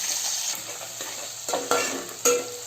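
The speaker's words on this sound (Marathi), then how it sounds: "कांदा मस्त फ्राय केलाय बघा, लाल झालाय." Chopped onion frying in oil with black and green cardamom for egg biryani, a steady close sizzle with a few sharp spatula scrapes and bumps toward the end.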